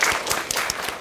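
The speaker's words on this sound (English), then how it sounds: "Let's give them another round of applause." Audience applause at a community-engaged research event, a brief, full round of close clapping with a few sharper individual claps standing out, no talking over it.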